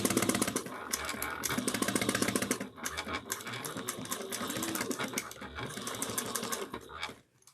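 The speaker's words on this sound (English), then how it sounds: "we backstitch well at the beginning and end" Sewing machine stitching the side seam of a bag, a fast continuous motor whir with a brief pause near the three-second mark, then steady stitching until it stops at the end, close and loud.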